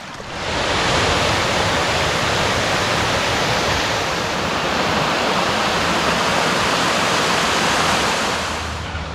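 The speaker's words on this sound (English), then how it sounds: "You can hear heaps of cascading here all the way through the valley" Creek water cascading through a valley in Australia's Blue Mountains, a loud, constant rushing roar that fades in and stays steady, with no voices over it.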